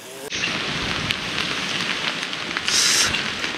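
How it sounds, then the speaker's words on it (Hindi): Heavy rain pours steadily on a rainy day on the route from Lauterbrunnen to Mürren, making a dense, close hiss that swells briefly near the end. "बारिश तो आ गई है जोरों की"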